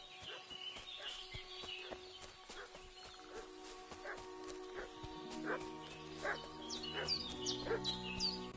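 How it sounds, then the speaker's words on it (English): A dog barks repeatedly in the medieval open-world game Kingdom Come: Deliverance II, with sharp, fairly close barks spread across the clip amid rural ambience, faint fowl-like calls and soft background speech-like murmur. "What's that dog making such a fuss about?"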